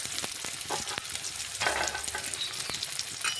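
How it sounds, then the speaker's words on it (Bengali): Chopped onions frying in white oil for a Bengali chicken curry make a continuous crackling sizzle, broken by a few quick clacks and scrapes of stirring. "এখন বেশ কিছুক্ষণ সময় নিয়ে পেঁয়াজটা একটু নাড়াচাড়া করে লাল লাল আমি ভেজে নেব"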